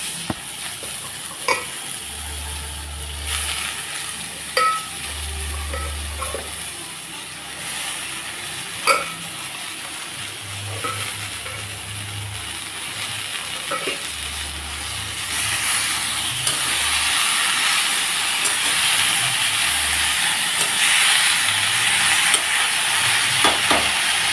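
Spinach and lentil dal with bori simmers and sizzles in a pot, with a soft steady hiss. Occasional stirring scrapes and low clunks punctuate it, and the hiss swells louder toward the end.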